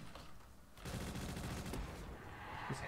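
Rapid automatic gunfire in Call of Duty zombies on the Stairs of Ammenu map, a loud sustained burst of shots starting after a short pause of ambient noise.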